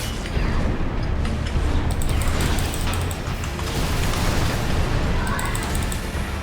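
Missile explosions in the video game Armored Core VI, heavy booms and blasts layered over a continuous roar of combat, loud and dense throughout.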